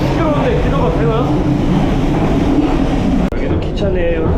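Loud, steady rumble and rattle inside a passenger train running from Jakarta to Bandung, with continuous broadband noise and a brief dip near the end as something shifts in the carriage.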